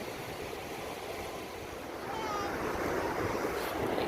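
Steady ocean surf washes continuously on a beach at Lingayen, Pangasinan, swelling slightly louder partway through as the waves rise, with gusty wind buffeting the microphone.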